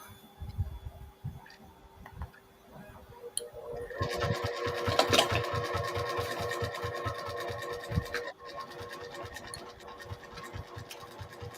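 Domestic sewing machine stitching a fabric tag onto a quilted Christmas project: quiet rapid mechanical ticking, a brief start, then a sustained run of even needle strokes before slowing to scattered clicks.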